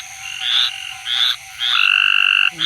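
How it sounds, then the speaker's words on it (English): Tree frog, a green or squirrel tree frog, calling close by at night: repeated nasal, buzzy croaks in short bursts, then a longer steady trill, over a faint low background hum. "This guy is starting to call again."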